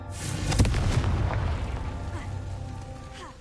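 A Confringo fire spell bursting in Hogwarts Legacy: a loud, close boom that rumbles and then slowly decays into a fading crackling tail over a few seconds.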